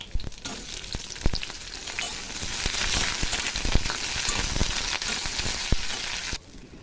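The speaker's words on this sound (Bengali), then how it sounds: "ভেন্ডিগুলোকে ভেজে নেব।" Okra frying in hot oil in a wok, a dense continuous crackling sizzle close up with occasional sharp clicks and pops, no talk.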